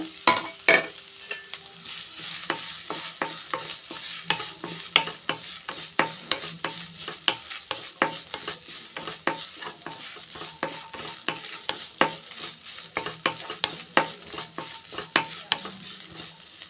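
Grated coconut with cashews sautéed in a pan over a low flame, a soft continuous sizzle broken by regular clinks and scrapes of a spatula stirring against the metal, close up with no talk.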